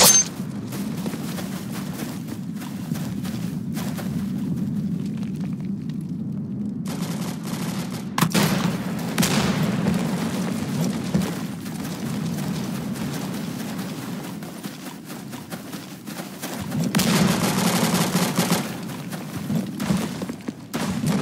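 Gunfire rattles through a Vietnam War battle in the Roblox game Unit 1968: Vietnam, with loud, dense bursts and volleys running almost nonstop and a few brief lulls.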